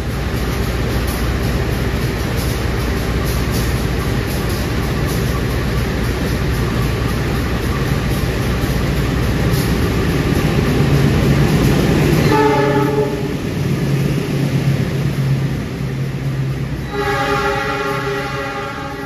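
The KA Progo economy train, running with new-generation stainless steel coaches, rumbles along loudly and steadily, then its horn sounds in two long blasts over the rolling noise.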